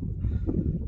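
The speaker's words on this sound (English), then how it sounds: "It's very windy up here." Gusty wind on the summit of Carnedd Llywelyn, Wales, buffets the microphone in a low, steady rumble, with no voices or other sounds over it.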